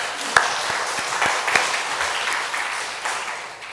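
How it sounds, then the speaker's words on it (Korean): A church congregation breaks into sustained applause, a dense wash of many hands clapping together, with a few sharper individual claps standing out. "하나님께 영광의 박수 돌려드리겠습니다"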